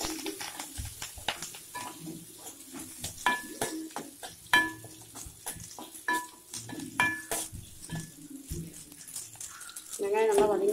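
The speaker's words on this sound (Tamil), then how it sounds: "வெங்காயம் நல்லா வதங்கிடுச்சு." Onions sizzle and crackle in a frying pan while being stirred for a roadside-style salna, with scraping strokes of a spoon recurring against a steady frying hiss, close and moderately loud.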